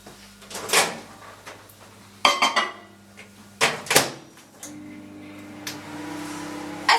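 A microwave oven door bangs open and shut and kitchen handling clatters, then the oven hums steadily as a protein bowlcake cooks; several sharp knocks stand out over the constant tone, with no talking.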